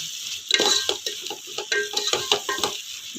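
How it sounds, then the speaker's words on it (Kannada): Thick bisi bele bath of rice, lentils, tomato and spice powder in a pot, bubbling and being stirred with a ladle, giving close, irregular scraping, plopping and sizzling sounds with no talk. "ನೋಡಿರಿ ಎಷ್ಟು ಚೆನ್ನಾಗಿ ಕುದೀತಾ ಇದೆ"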